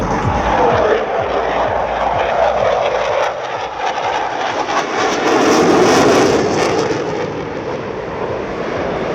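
A German Typhoon fighter jet flies at Exercise Tarang Shakti in Sulur, Tamil Nadu: a loud, continuous jet roar whose pitch sweeps down and then back up as it passes, with no voices over it.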